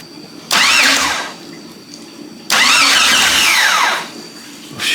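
A Jeep XJ's engine cranked over by its starter in two separate bursts, each a few seconds of close, loud, whirring churn with a rising-and-falling whine, with quiet between them and no catch to a running idle.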